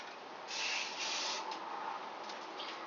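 A few bursts of aerosol spray hiss close by, two longer sprays followed by shorter puffs, with no talking.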